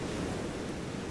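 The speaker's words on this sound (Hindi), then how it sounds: "कितनी अच्छी हवा चल रही है।" Wind blowing outdoors in a steady, full roar with a surf-like rumble and gusty buffeting across the microphone, continuous and fairly loud throughout a short stretch with no voices.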